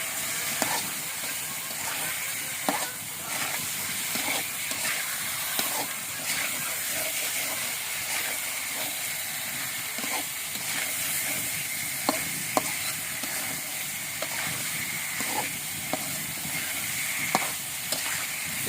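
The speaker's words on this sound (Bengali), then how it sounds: "এই মাছটা একটু কষায় উঠায় তারপরে তরকারি দিব" Bata fish frying in a pan, giving a steady crackling sizzle and hiss, with clinks and scrapes of stirring scattered throughout.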